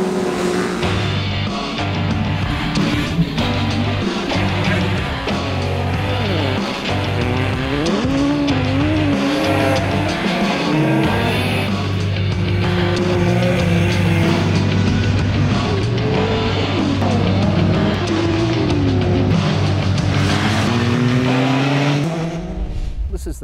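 Off-road racing buggies from a club with roots in old 250 Honda machines roar loudly, engines revving and rising in pitch with tire squeals and skids, continuous and close throughout.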